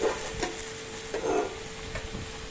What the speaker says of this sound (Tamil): நல்லா வெங்காயம்லாம் கருகாமல் கரெக்டாக வதங்கி வந்திருக்கு